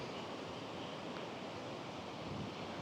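Sea waves at Sabang Beach in Baler wash in as a steady, fairly faint surf hiss mixed with wind rumble, continuous and unbroken with no voices.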